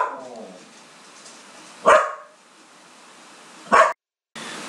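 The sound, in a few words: dogs barking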